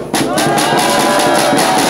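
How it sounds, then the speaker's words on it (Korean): Crowd at an outdoor Korean political rally at Daehanmun bursting into sustained, dense applause and cheering, loud and steady throughout after a brief quieter start. "김평호 변호사님에 대해서 뜨거운 박수 한번 부탁드리겠습니다"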